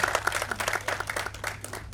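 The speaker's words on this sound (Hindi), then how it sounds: "और जोरदार तालियां प्रोफेसर डॉक्टर आफ्तार अनवर शेख साहब के लिए।" An audience at a mushaira poetry gathering in Pune claps for Professor Dr Aftab Anwar Shaikh, a moderate burst of scattered hand claps over a low steady hum.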